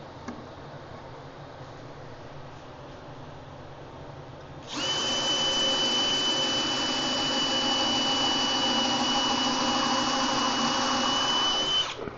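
A power drill whirs up suddenly and runs at a steady high-pitched whine for several seconds, loud and close, then cuts off, drilling into wood.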